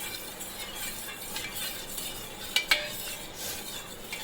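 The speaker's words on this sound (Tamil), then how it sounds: "இந்த சூடுலேயே போட்டு இந்த நாட்டு சர்க்கரையை கலந்துருங்க." Country sugar being stirred into hot liquid in a pan, with a soft continuous swirling wash and two sharp clinks of the spoon against the pan partway through.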